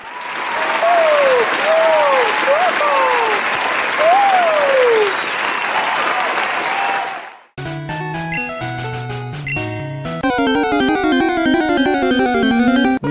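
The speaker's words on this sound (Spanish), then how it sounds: "¡Démosle un aplauso a Mew!" Loud crowd applause with cheering and whistles at a Pokémon-themed presentation about Mew, dense and sustained for several seconds before cutting abruptly into music.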